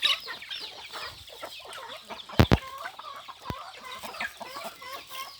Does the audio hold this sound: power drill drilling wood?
no